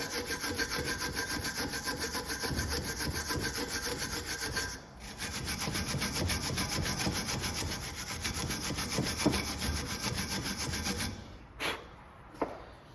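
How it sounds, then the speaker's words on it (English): A wire brush scrubs rust and loose debris off a Ford Transit brake caliper carrier, a close, steady rasping scratch in rapid back-and-forth strokes, pausing briefly midway and breaking into a few separate scrapes at the end. "we're going to take our wire brush and we're just going to brush these surfaces to get all this loose debris out"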